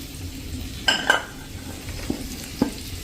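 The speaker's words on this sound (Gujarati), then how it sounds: "તો હવે આપણે આ જે ભીંડો સમાર્યો છે ને એ નાખી દેશું" Chopped okra tipped into a pan of oil with sesame seeds and besan paste and then stirred, a couple of clattering spoon knocks over a low, steady sizzle.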